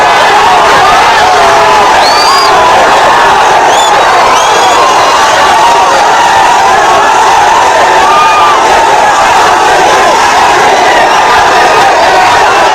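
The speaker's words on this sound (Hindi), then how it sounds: "3 लाख की भीड़ पहुंच गई वेलकम करने के लिए अपनी टीम को" A huge crowd of around three hundred thousand cheers and shouts continuously as the IPL-winning RCB team bus arrives, with a dense, loud roar and scattered whistles and whoops sustained throughout.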